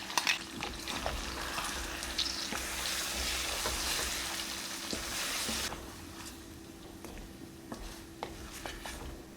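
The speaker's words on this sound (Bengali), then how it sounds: "তৈরি করা বিরিস্তার পেস্ট দিয়ে মিনিট খানিক কষে নিতে হবে।" Mutton sautéing with fried onion birista paste for Kashmiri rogan josh, a steady, close sizzle with occasional stirring scrapes and clinks, easing slightly in the second half.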